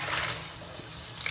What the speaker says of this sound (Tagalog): hugasan na po natin ang ating clam